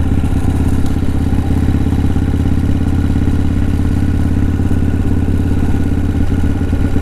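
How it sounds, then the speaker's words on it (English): A motorcycle engine runs steadily and loudly at close range with an even, throbbing idle and faint mechanical clatter, and no other sounds. "So the bike's running"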